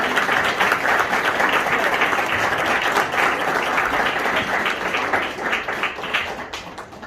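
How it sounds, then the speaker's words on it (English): A crowd gives one last big round of applause at a live event, dense steady clapping that holds strong, then thins and tapers off toward the end. "One big last round of applause"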